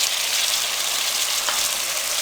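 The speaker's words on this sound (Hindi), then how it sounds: "3 से 4 मिनट हम अच्छे से फ्राई करेंगे।" Green chillies and finely chopped tomato frying in a pan, a steady, loud, broadband sizzle that holds evenly throughout with no talk over it.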